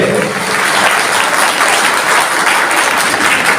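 Dense, loud clapping fills a hall at a Brahmin community matrimonial introduction conference, a steady uninterrupted wash of many hands throughout.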